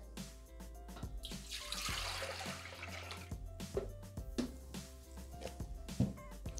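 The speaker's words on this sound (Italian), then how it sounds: "Iniziamo la ricetta mettendo all'interno del boccale il latte." Whole milk pours into a Thermomix mixing jug in a kitchen, a steady liquid rush in the first seconds followed by splashes, clinks and handling knocks, close and moderately loud with no talk.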